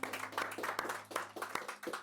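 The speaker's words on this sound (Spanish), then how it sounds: "Denle ofrenda de palmas a Cristo." Church congregation clapping in offering of applause, a steady patter of many hands with irregular louder claps, moderately loud, with faint voices underneath.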